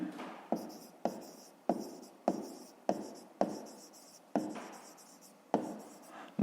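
A pen writes a fraction by hand on paper during a fifth-grade maths exercise, producing a regular series of about eleven short scratchy strokes, each starting sharply and trailing off, close and quiet with no speech.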